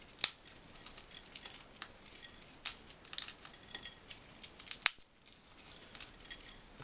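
Crisp lace crêpes (crêpes dentelles) are broken by hand for decorating a sponge cake, making quiet, close, irregular dry snaps and crackles with a few sharper cracks.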